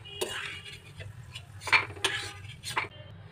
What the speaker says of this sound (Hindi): अब हम इनको प्लेट में निकाल लेंगे